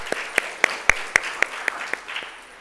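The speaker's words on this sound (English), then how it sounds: "A big round of applause for Dr. Stavros, our panelists" A small audience at an opioid and stimulant forum panel discussion claps sparsely, with about eight distinct hand claps in a steady, evenly spaced rhythm that gradually thins out. No one speaks.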